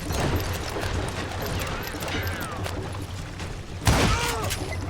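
Gunfire crackling through a Western shootout in Call of Juarez Gunslinger, a dense rattle of shots with ricochet whines, a sharp louder blast near the end, and shouting voices in the mix.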